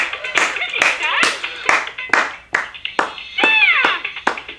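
Hands clap in a steady beat at a Mickey Mouse dance party, roughly two sharp claps per second, close and loud. Bright, squeaky vocal-like tones ring over the clapping.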